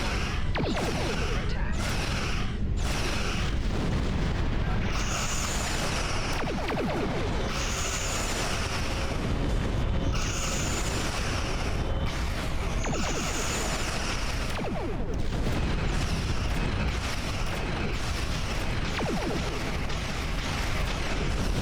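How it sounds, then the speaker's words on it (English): Ship weapons in Star Trek Online blast an asteroid in space, giving loud, dense, continuous crashing and whooshing bursts with repeated bright pulses at a steady rhythm through the whole stretch, and no talk. "Ready to target that asteroid. Fire."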